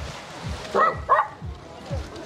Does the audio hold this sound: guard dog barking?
yes